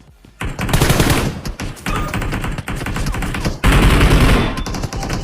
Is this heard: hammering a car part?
no